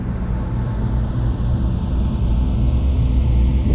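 Douglas World Cruiser biplane engine run up to full power in a flight simulator, a steady, loud low droning rumble that holds evenly throughout without pause.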